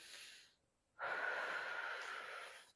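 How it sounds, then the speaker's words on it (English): A long, soft, airy inhale taken during a pelvic floor exercise, preceded by a brief exhale and a pause, close and quiet with no talk. "So breathe in"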